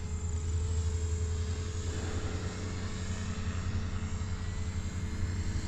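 Continuous droning whine of an FMS Cessna 182 Skylane RC model plane propeller in flight, steady and fairly close, with no talking.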